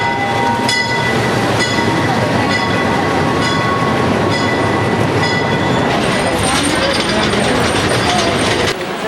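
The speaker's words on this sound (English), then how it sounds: "Okay, train to Machu Picchu." A train bound for Machu Picchu in Peru rumbles loudly and continuously close by, with rattling carriages, metallic squeals and clicking rail joints.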